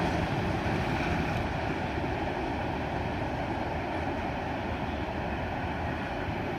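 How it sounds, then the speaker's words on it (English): A CSX freight train rolls past on a hot summer day, with an old railbox boxcar at the rear; a loud, steady rumble and rushing noise of wheels on rails, close by and unbroken, with no talk. "a really old railbox boxcar brings up the rear of this awesome train"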